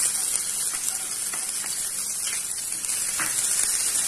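Ginger and garlic hit hot oil in a pan for a mixed vegetable pepper fry, sizzling loudly and steadily with a dense, rain-like crackle that stays close and constant with no talk.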